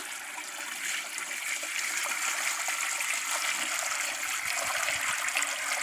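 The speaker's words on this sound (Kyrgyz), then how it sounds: "Төгүп атабыз сууну." A stream of water tipped out of a container holding a couple of spoonfuls of settled sand, pouring continuously for several seconds as an even, hissing splash with no talking.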